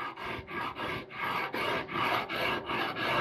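A Shinto rasp works a wooden axe handle in quick, rhythmic strokes, about nine close, dry, scratchy rasps in a row, each pass separated by a brief pause.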